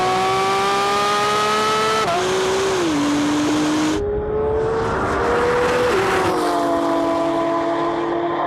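A Porsche GT3 RS and a Maserati MC20 race hard, their engines loud and close as they climb through the revs with distinct gear-change drops and a shifting second engine note.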